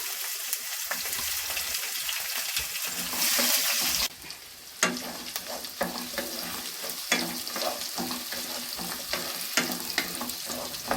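Onions frying in ghee as a tempering for radish sambar, a steady crackling sizzle with stirring scrapes close by, no voices.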